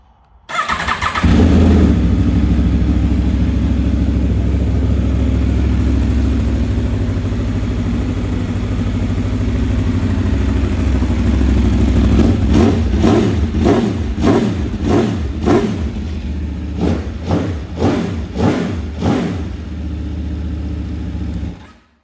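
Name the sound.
Aprilia Tuono V4 Factory motorcycle starting up and revving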